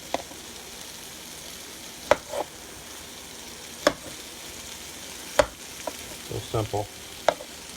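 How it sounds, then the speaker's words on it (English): Halved potatoes fry in butter in a pan with a low steady sizzle, broken by sharp clanks of a utensil stirring and scraping at irregular intervals; a voice speaks briefly. "I put a little salt and pepper and the butter on them and just let them cook in here in the pan a couple minutes"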